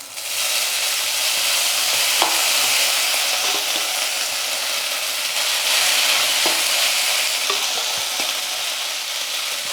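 Crumbled leftover idli for upma is frying in a hot pan, a loud, dense sizzle that holds steady throughout with faint stirring clicks now and then.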